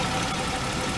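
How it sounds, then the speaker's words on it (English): Jaguar XJS facelift six-cylinder engine with multi-point fuel injection idling steadily, a dense even mechanical hum with a faint knocking texture, heard close and uninterrupted. "Just a great running engine"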